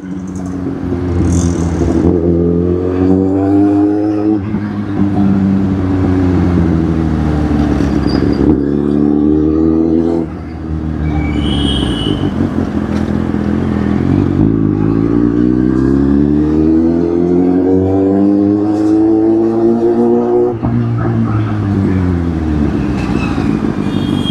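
Engine of the rider's own favourite vehicle droning steadily while on the move, its pitch rising and falling through several accelerations and gear changes, loud and close throughout with no talking.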